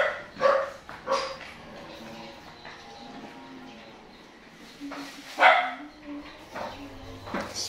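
Dogs bark a few times at a moderate distance, in scattered bursts, with a faint lowing animal sound in the background.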